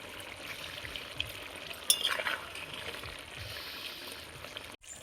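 Fish dropped into a pan to cook a Bengali mourola fish chorchori with aubergine, giving a steady low sizzle with faint clinks of stirring and a brief louder burst as the pieces go in.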